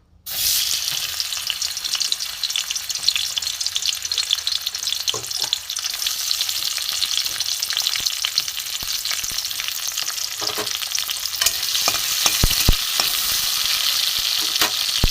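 Tomatoes and green chilies fry in mustard oil in a wok, starting with a sudden loud sizzle that holds as a dense, steady hiss, broken by a few scraping stirs near the end.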